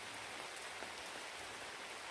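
Steady rain falling at Bass Lake campsite in Michigan's Upper Peninsula, a dense, even hiss of drops on surfaces with no talk and no breaks.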